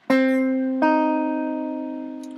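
Two clean guitar notes struck together as a dyad, plucked twice, ringing out and slowly fading.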